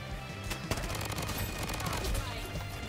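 Rapid automatic assault rifle fire in the shooter game Bloodstrike, a dense, loud stream of shots running throughout with sharper bursts near the start, under an occasional voice.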